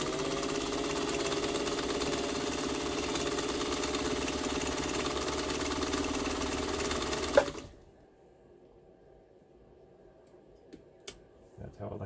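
A Pfaff 130 sewing machine running steadily while stitching, a loud, even mechanical whir for about seven seconds that stops abruptly, leaving quiet with a few small clicks and handling noises.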